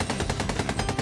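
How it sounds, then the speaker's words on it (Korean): Rapid automatic gunfire in an SCP dating sim video game, a fast even burst of roughly a dozen shots in a row, loud and unbroken, with no speech. "SCP-682 뒤에서 총소리 울려왔다."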